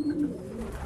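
Pigeons being sold at an Egyptian bird auction, including homing and meat breeds, give a short low cooing burr, close and moderately loud, with no talk.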